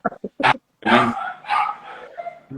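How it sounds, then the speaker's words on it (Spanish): Several dogs bark in quick, excited bursts, loud and fairly close, with overlapping yaps and howl-like barks tumbling over one another. "Se revoltearon los perritos."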